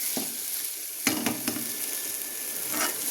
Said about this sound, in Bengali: হয়ে গেছে বন্ধুরা শাক ভাজা